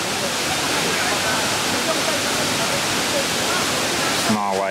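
Cheonjiyeon Waterfall in Seogwipo, Jeju, South Korea roars as a loud, continuous rush of falling water, steady throughout, with a brief voice emerging right at the end.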